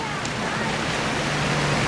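A waterfall sends up a steady, even rush of broadband water noise for the whole short stretch, with faint voices mixed in underneath.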